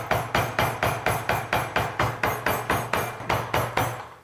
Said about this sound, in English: So here we go, let's finish pounding those out.